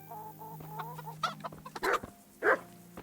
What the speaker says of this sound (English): With some chickens and a dog.